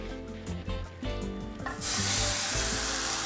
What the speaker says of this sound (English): I'm gonna heat my pan, put some oil in there and heat that before we begin sauteing